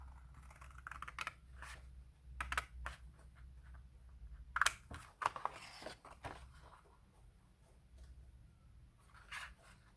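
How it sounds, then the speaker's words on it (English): Scissors snip small squares out of paper for a shadow box craft, a run of close, sharp cuts with short pauses, faint and alone over a low steady hum. "You want to cut all 16 of those squares away on all 4 sides."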